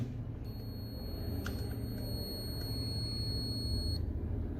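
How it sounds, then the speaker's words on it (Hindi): A digital multimeter in continuity mode emits a steady electronic beep when its two probes touch during car wiring and ECM repair training, one continuous tone of about three and a half seconds heard over a low background hum. "जैसे ही मैं दोनों प्रोब को टच करता हूं तो एक बीप साउंड आती है"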